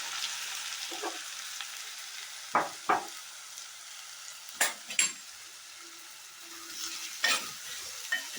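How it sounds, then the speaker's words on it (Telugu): Onion pieces frying in hot oil in a kadai, a low steady sizzle broken by several sharp utensil clinks and stirring scrapes, close by and without speech. "కళాయిలో నూనె తీసుకుని నూనె కాగిన తర్వాత అందులోకి ఉల్లిపాయ ముక్కలు వేసుకోవాలి"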